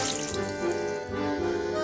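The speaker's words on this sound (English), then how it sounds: "What I'm going to do is I'm going to add the vegetable stock," Vegetable stock pours into a pot where a beef shank is browning, a steady liquid splash and trickle mixed with sizzling under a faint hum.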